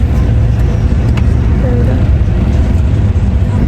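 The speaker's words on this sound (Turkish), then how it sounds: "şu an araç hareket ettirerek gidiyoruz" Steady low rumble of a car driving along on a holiday road trip, continuous engine and road noise from inside the vehicle, fairly loud and even throughout, with faint voices in the cabin.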